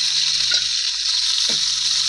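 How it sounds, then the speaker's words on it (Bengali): Shol fish fries in hot oil in a wok, a loud, steady close-up hiss with two soft low thumps in between. "মাছগুলো ভালো করে ভাজা হয়ে গেছে,"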